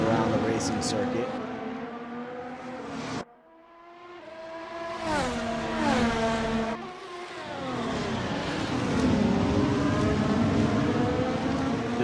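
A race car laps the Road America circuit, its engine note rising and falling through shifts and revs at close range, briefly cutting out, under continuous commentary talk.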